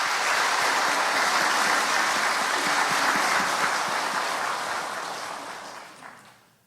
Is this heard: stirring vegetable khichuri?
no